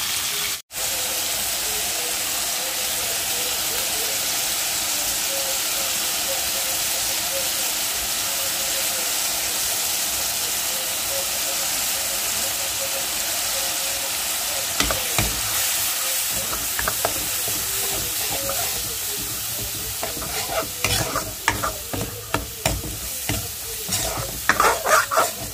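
Fish fries in a pan with a loud, steady hiss that fills the whole stretch, joined near the end by scraping and clattering as it is stirred.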